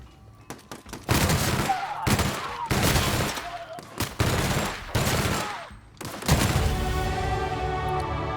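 Bursts of automatic gunfire from the player's weapon in The Outer Worlds, five loud sustained volleys separated by short pauses, close and dominant with a little background voice.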